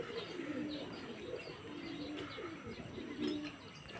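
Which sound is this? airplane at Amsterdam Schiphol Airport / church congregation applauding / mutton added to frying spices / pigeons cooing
pigeons cooing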